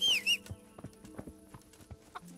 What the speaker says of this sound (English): Take my horse.